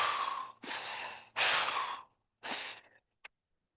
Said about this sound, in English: take some breaths here.